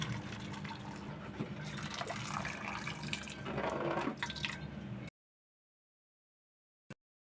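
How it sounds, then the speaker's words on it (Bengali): Water drained off boiled pasta into a sink, a steady pouring splash and trickle for several seconds with a brief surge, then silence broken by one small drip or clink. "এখন আমি এটা পানিটা ঝরিয়ে দিব।"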